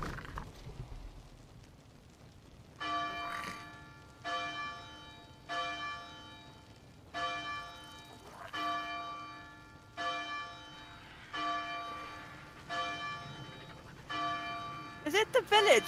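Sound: bell ringing in video game Scorched Earth

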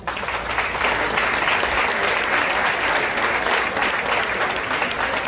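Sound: applause for Luis

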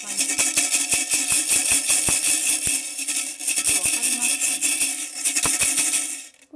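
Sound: BeatJack shaker attached to ukulele being played

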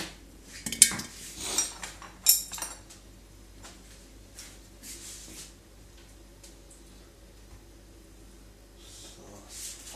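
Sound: stirring the brine for quail eggs in a pot

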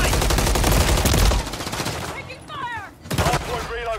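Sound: gunfire in video game Call of Duty Modern Warfare 3

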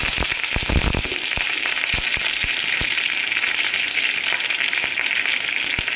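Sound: curry leaves sizzling in hot ghee

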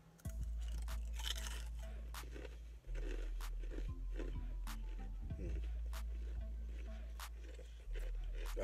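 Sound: chewing crunchy battered fried shrimp

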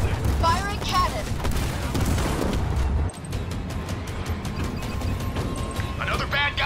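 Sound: cannon fire in a video game

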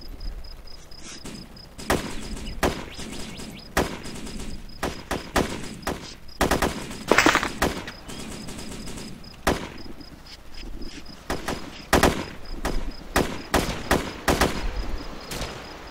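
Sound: gunfire in the video game Arma

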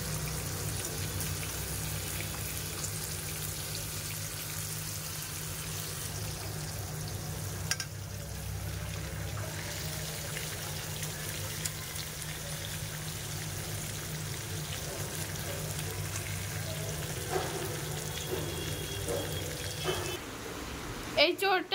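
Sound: fish frying in a pan

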